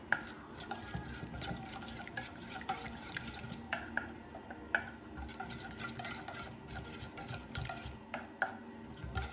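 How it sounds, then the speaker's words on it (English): A lime and soy sauce dipping sauce being mixed in a bowl, soft liquid swishing with light clinks and taps of the utensil, quiet and close, no talking. "I'm just gonna mix this up."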